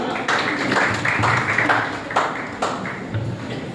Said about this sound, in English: Let's say use clap for Abhishek.